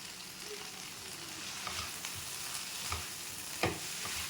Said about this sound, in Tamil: கருவேப்பிலை போட்டுக்கோங்க கொஞ்சம்.